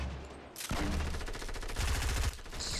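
Rapid gunfire in Fortnite, a loud sustained burst of shots lasting about two seconds after a brief quiet start, with no talk.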